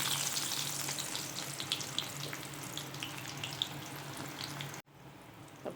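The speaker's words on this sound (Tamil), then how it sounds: "லைட்டாக உளுந்தம்பருப்பு போட்டுக்கிறேன், ஜீரகம் கொஞ்சம் போட்டுக்கிறேன். இது பொரிஞ்சதும் வெங்காயம் கொஞ்சம் போட்டுக்கிறேன்." Urad dal and cumin crackle and sizzle in hot oil in a pan for a South Indian raw banana fry, a dense, close frying hiss with small pops throughout before cutting off abruptly near the end.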